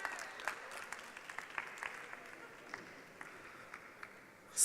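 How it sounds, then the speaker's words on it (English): Audience at a magic show during a literature festival at the British Library clapping for a volunteer, a thin, fairly faint patter of scattered claps from a modest crowd that holds steady before a sudden loud thump at the end. "Give him a round of applause"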